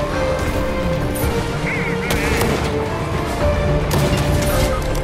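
Gunfire in a video game, sharp cracking shots sounding over a busy, loud game mix with engine-like drone and clatter, close and continuous.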